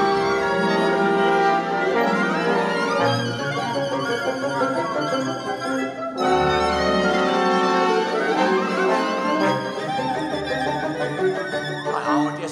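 The Munich Philharmonic plays the surging water music from The Sorcerer's Apprentice: full orchestra, loud and continuous, with dense swelling string and wind lines that rise and fall, a brief break near the middle, then the rush resumes.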